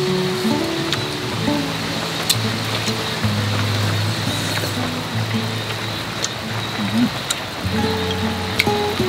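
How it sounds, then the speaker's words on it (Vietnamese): Steady rain and gusting wind wash over the countryside in an unbroken, fairly loud hiss, with faint low rumbles and scattered soft knocks underneath. "Mới có 5 giờ mấy mà đã chuyển mưa tới thui."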